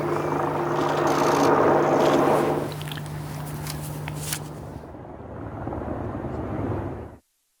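Navy helicopters' heavy rotor drone fills the air, loud and rumbling, then fades away as they fly past, with a low engine hum underneath.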